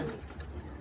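Madras pigeons in a loft give a soft, low coo, brief and faint against quiet room noise.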